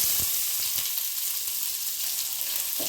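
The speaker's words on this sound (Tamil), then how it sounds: "இது எல்லாமே நல்லா ஃப்ரை பண்ணிடலாங்க." Chopped onions fry in hot oil with chana dal, urad dal and popped mustard seeds for a raw papaya poriyal, giving a steady close sizzle with a few sharper crackles early on and no talking.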